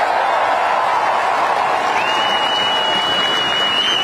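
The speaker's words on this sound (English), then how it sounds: "Let's give them a big round of applause." A stadium crowd at a national championship celebration applauds in a dense, sustained wash of clapping, with a faint whistle or tone rising partway through.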